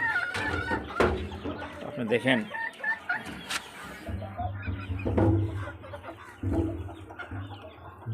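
Native deshi hens cluck and call close by in a backyard coop, with short bursts of clucking over a low steady hum while a person speaks briefly.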